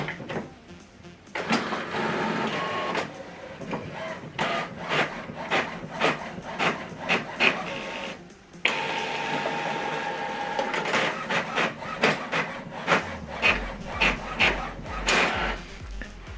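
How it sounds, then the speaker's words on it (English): An HP Officejet printer runs a double-sided print job, with mechanical whirring, repeated clicks and paper-feed clatter in rhythmic bursts, a pause midway, then steady motor hum and more feeding strokes close by. "Now this document is going to print out."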